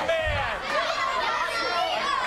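Crowd at a D1PW independent wrestling show in 2008, a steady murmur of chatter and shouting voices filling the hall at moderate volume throughout.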